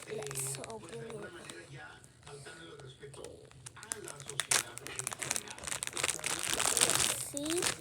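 A keycap package is opened by hand, its plastic wrapping crinkling and tearing up close, softer at first and growing busier and louder toward the end.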